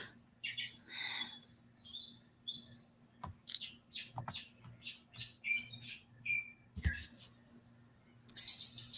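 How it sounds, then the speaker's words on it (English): Small birds chirping and tweeting outdoors in the background, a run of short, fairly faint calls repeating in quick bursts, with a few clicks and soft noises mixed in. "You guys get to hear the birds in the background."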